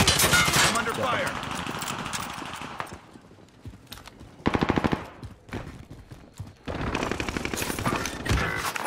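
Video game gunfire in Call of Duty Warzone Pacific on Rebirth Island, with rapid automatic bursts that stop and start in loud clusters and some sharp single shots, mixed with other battle noise and speech.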